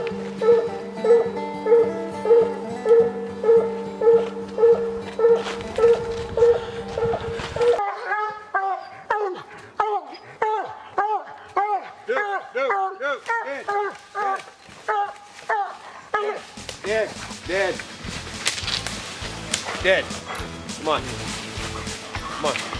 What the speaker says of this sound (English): A consistent bark tells us to start moving in.